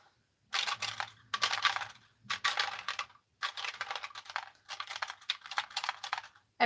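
Keys of a toy typewriter building set clicking in quick bursts of rapid taps, close and crisp, separated by short pauses.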